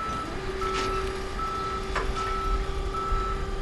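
A tow truck reverses in Police Simulator: Patrol Officers, sounding a steady electronic warning tone over a low engine rumble at moderate distance.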